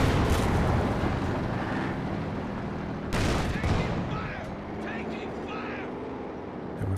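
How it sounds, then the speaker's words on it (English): Grenades burst in a Company of Heroes 2 battle, with a dense crackle of explosions and gunfire at the start and another sharp burst near the middle. The clatter is fairly faint and sits over a steady background rumble. "just spamming those grenades"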